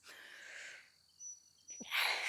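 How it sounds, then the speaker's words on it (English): A single person sneezes, with a breathy build-up followed by a loud, sharp burst near the end, close to the microphone and heard on its own without talk. "I gotta sneeze"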